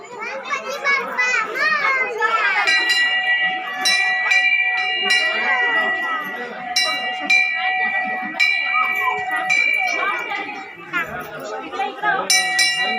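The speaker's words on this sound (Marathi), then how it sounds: "इकडे घंटी वाजणार आहे ना." At a society Ganesh temple during a Ganesh birth festival, a small bell rings out in repeated clear tones over lively children's chatter and play nearby.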